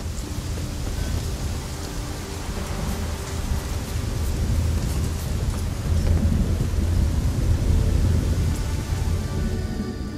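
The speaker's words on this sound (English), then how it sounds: "Because, you know, thunder." Heavy rain pours continuously in The Witcher 3 while deep thunder rolls underneath, growing somewhat louder midway, a close, immersive storm bed without any speech.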